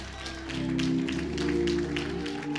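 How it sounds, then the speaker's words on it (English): A church congregation claps hands together in a steady, roomy patter of many claps over a sustained musical drone. "Clap your hands"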